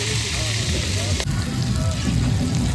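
Mutton frying in a pot at an office picnic, a steady close sizzle and bubbling with a faint stirring scrape, while people talk nearby.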